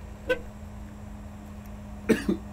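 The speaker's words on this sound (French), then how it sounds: "J'ai même le klaxon." Horn of a Peugeot 306 Maxi rally car sounds in one short toot, then a quick double toot a moment later, close and fairly loud over a steady low hum.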